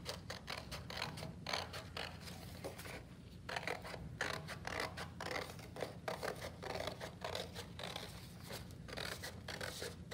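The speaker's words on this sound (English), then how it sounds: "So now I'm gonna cut out this circle and I'm gonna try my best to follow the black line when I cut it out" Scissors snipping steadily through paper, cutting out a circle along a drawn line for a kids' paper snow globe craft; close, continuous crisp cuts with short pauses, no talking.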